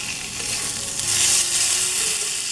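Garlic paste sizzles steadily in a hot frying pan, a loud continuous close-up crackle and hiss with no talking.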